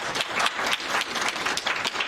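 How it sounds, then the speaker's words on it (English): A library lecture audience applauds the evening's sponsors with a brief burst of many hands clapping together, moderately loud and fairly even throughout, with some sharper individual claps standing out. "So a big round of applause for our sponsors."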